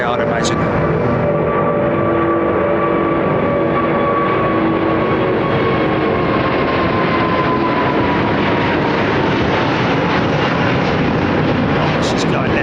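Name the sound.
airplane departing overhead London Heathrow runway 09R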